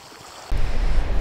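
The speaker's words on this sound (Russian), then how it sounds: "И слушайте море." Sea surf rolls in at Simeiz on the Crimean coast, a loud rushing swell surging up halfway through, with wind buffeting the microphone.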